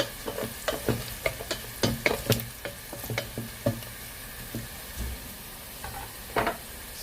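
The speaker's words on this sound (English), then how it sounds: "So while stirring for 1 minute, now I'm going to add some turmeric, half teaspoon. Let's stir that." Turmeric being stirred into a frying dal mixture for Kokni masala daal, with repeated scraping strokes of a spoon against the pan over a soft sizzle, close and moderately loud, with no talking.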